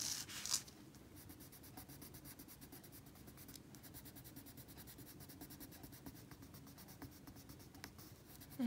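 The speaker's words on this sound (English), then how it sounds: "I'm just coloring over that shading" A colored pencil scratches steadily back and forth on light card paper while coloring over shading, a faint, close, continuous rhythmic scribbling with no speech.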